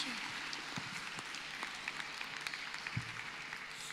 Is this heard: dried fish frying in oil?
no